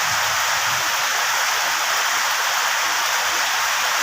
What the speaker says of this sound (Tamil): எல்லாம் மழை வெளுத்து வாங்குது